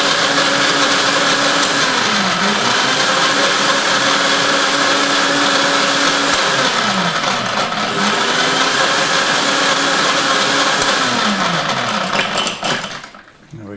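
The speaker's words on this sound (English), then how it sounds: "Just add the ice straight in to your blender, and this will probably take about 10 seconds." A blender crushing ice for a peach schnapps drink runs loud and steady, with a whirring motor pitch that dips and rises as the ice breaks up. It cuts out near the end.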